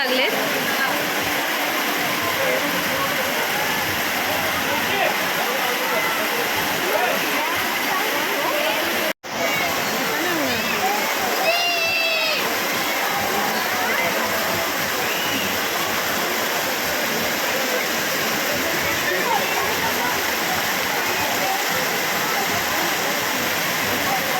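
Heavy rain pours down outdoors during a rangoli competition, a dense, steady, loud hiss of falling water lasting throughout, with a brief sharp click partway and faint voices and bird-like chirps in the background.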